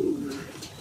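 Pigeons coo in a fancier's loft, a low soft pulsing call close by, repeating with gentle throaty swells and no talk over it.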